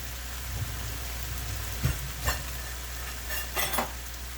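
Chicken frying in a pan before broth is added gives off a steady, dense sizzle, close and continuous, with a few brief clinks and stirring scrapes rising over the hiss.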